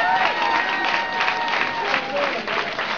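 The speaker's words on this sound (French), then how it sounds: "je pense qu'on peut les applaudir très fort" A theatre audience gives sustained applause for the touring troupe of the musical Le Roi Soleil, the clapping thick and even throughout, with faint sustained tones and voices running underneath.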